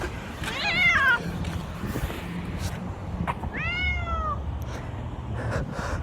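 A cat gives two distinct drawn-out meows, the first near the start and the second mid-way, over a low background rumble with faint thumps.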